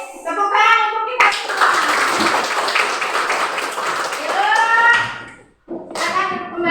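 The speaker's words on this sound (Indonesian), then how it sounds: "Tepuk tangan untuk kita." A primary-school class in a fifth-grade maths lesson claps together, a few seconds of steady group applause, with children's and a teacher's voices heard before and after.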